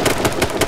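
Rapid gunfire in a shooting video game, several sharp shots spaced evenly in quick succession, fairly quiet and with no talking.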